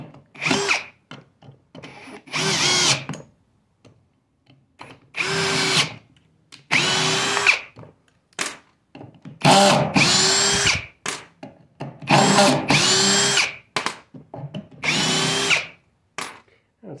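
Ridgid cordless drill on a 4 amp-hour battery driving screws into wood, loud close bursts of motor whine in repeated short runs separated by brief pauses, no speech.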